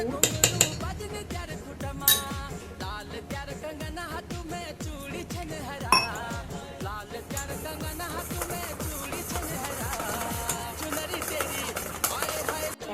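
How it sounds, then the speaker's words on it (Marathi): Rapid, rhythmic clinking of a spoon beating aloo bonda batter against a bowl, close and continuous, with other faint kitchen sounds behind it. "छान फेटून घ्यायचं आहे छान पाच मिनटं बॅटरला छान असं फुलू द्यायचं आहे"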